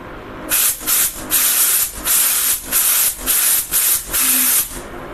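Fuel injectors being cleaned, giving loud, close hissing sprays in about eight rhythmic bursts, each lasting around half a second with short gaps, and no voices.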